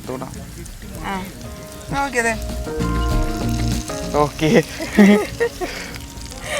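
Fried chicken pieces go into a pan of sautéed vegetables for chilli chicken, bringing up a hissing sizzle with scattered crackles, mostly beneath people talking and laughing close by.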